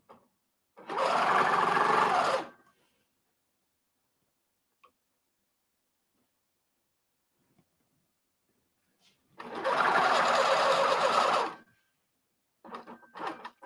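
A King Quilter II Elite sewing machine stitching a quarter-inch binding seam, two loud steady bursts of rapid motor-driven stitching about two seconds each, separated by quiet, with a brief start at the end.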